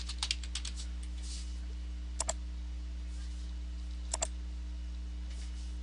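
Typing on a computer keyboard: a few sparse, quiet clusters of key clicks over a steady electrical hum, with long pauses between short bursts.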